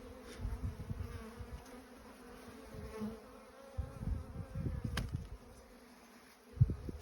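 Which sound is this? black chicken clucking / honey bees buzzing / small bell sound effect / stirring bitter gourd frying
honey bees buzzing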